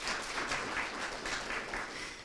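Audience applause in a talk or presentation setting, steady dense clapping from many hands throughout, moderately loud with no pauses.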